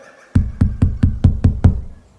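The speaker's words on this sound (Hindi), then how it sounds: "काफी देर तक दरवाजा पीटने के बाद भी" A fist pounds on a door seven times in steady succession, loud, heavy and close, each bang booming low after a short quiet lead-in.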